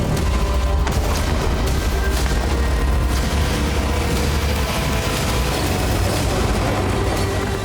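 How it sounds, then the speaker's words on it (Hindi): Israeli bombardment of southern Beirut produces heavy, continuous booming and rumbling, loud and dense throughout, with repeated blasts overlapping one another. "दक्षिणी बेरूत पर इजरायली सेना ताबड़तोड़ हमले कर रही है"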